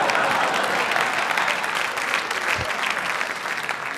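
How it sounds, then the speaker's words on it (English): Comedy show audience applauding, a loud, dense wash of many hands clapping at once that holds steady and tapers slightly toward the end. "That's the clapping of a patriot right there."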